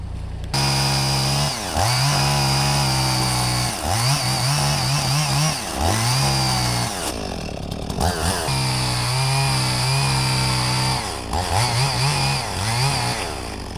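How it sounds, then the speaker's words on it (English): A chainsaw cuts through a poplar tree while clearing along a pond road, loud and close, with the engine revving up and down in repeated bursts as the blade bites into the wood. "Now we'll cut that. We'll go ahead and cut that. Cut that poplar off."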